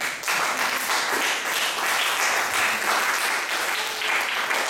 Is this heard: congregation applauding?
yes